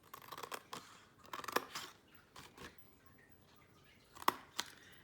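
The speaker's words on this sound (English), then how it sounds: "this little end piece here we can cut right off" Scissors snip through the end piece of a small paper milk carton, a few crisp close cuts in quick bursts separated by brief pauses, with no voices.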